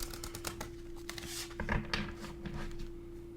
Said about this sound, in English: I'm going to shuffle one more time and take the first 3 cards in the deck.